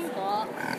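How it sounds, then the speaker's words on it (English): Little pig at a state fair giving a brief grunting oink, close and short, with people talking in the background of the busy fairground. "Look at the little piggy."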